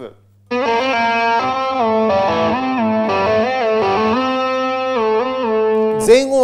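Electric guitar played through a 1995 multi-effects unit on its arm-up pitch-bend setting, a sustained distorted tone whose notes bend upward in pitch, loud and continuous with a brief noisy burst near the end.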